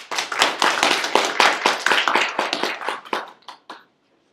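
A small audience claps at a tribute speech, a brisk run of distinct hand claps that thins out and stops after about four seconds, fairly close, with no talking.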